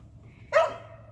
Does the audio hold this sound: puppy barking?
yes